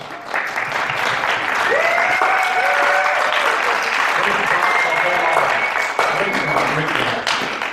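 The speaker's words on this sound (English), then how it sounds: "One more round of applause again for our future engineers, please." Sustained applause from a crowd at a university engineering week event, steady clapping throughout with a few whoops and cheers rising above it.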